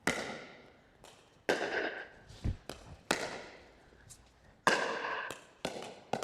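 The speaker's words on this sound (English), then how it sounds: "on my 3rd shot, I'm going to decide I think I'll hit a lob." Pickleball paddles strike the ball in a doubles rally that includes a lob shot, giving sharp, hollow pops at uneven intervals, some louder and closer than others, each with a short ringing decay.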